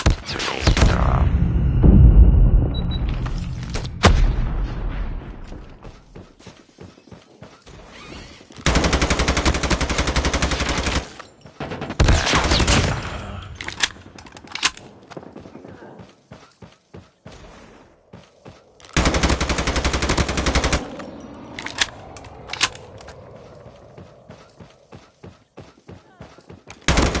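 In a shooter video game, a loud grenade blast opens, followed by bursts of assault rifle fire, two long sustained volleys and scattered sharp single shots and thuds, with occasional game voice callouts.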